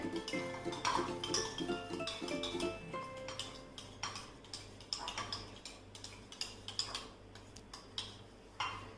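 Yogurt is whisked smooth in a big bowl, with rapid light clinks and ticks of the whisk against the bowl in an uneven, busy rhythm, close and fairly quiet.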